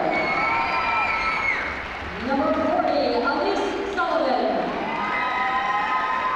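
Crowd cheering and applauding at a girls high school basketball medal ceremony, a loud sustained roar from both sides of the gym that swells midway, with an announcer reading names over it.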